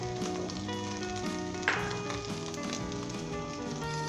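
Chicken frying over high heat with spices added, a steady sizzle under a bed of tonal background music, with one sharp clink of a utensil partway through and no talk.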